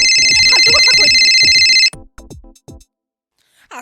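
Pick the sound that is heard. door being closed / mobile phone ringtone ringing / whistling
mobile phone ringtone ringing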